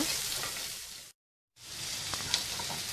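Onion, ginger and garlic frying in a pan for a Kerala-style squid thoran, a steady close hiss of sizzling with faint stirring, broken by a brief silent gap midway.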